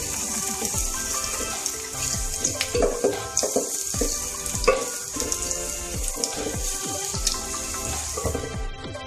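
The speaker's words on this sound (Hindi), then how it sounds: "थोड़ा सा फ्राई करेंगे।" Ginger and garlic frying in hot oil for masala bhindi: a steady, busy sizzle runs throughout with scattered clatters and splashes, close and fairly loud, and no voice.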